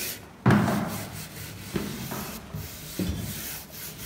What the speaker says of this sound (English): This is a copper brush, which we use for furniture, because we don't want to damage it.